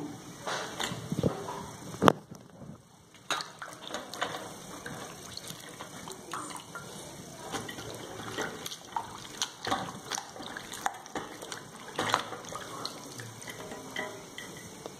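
Running water splashes and gushes steadily while something is rinsed and swished by hand, with occasional clatters against a bowl, close up.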